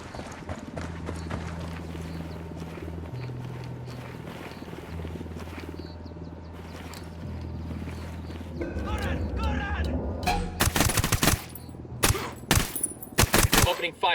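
Gunfire erupts in the video game Ghost Recon Wildlands. A steady low engine-like drone gives way to rapid bursts of loud shots, clustered in the last few seconds.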